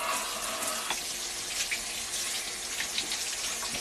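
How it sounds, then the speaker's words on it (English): Water from a running tap splashes over a plastic vegetable-chopper part being rinsed in a sink, a continuous close hiss and spatter with small shifts as the piece moves under the stream. "We're just going to give it a quick rinse."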